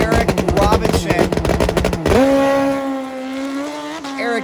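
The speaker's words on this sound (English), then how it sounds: "Eric gets a free pass down the drag strip after Steven Ruggerio grenaded a motor" A drag racing motorcycle on a cold, overcast Northern California strip gives a rapid, loud burst of staccato engine pulses, then a sustained high-revving howl that fades slightly as it runs down the track.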